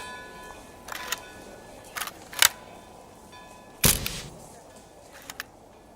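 Several sharp camera shutter clicks, spaced irregularly, with one louder snap near the end, over a quiet background hiss.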